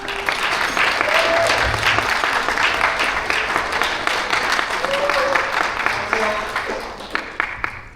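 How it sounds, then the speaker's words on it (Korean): An audience claps loudly in welcome for a speaker at a Sony camera hands-on event, dense sustained applause with a few whoops and voices mixed in that thins toward the end. "큰 박수로 환영해 주시기 바라겠습니다."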